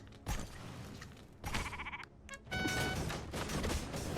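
Sheep bleat in the video game Commander Quest in several short, wavering calls mixed with game sound effects, including a sharp burst and a creak, at moderate loudness.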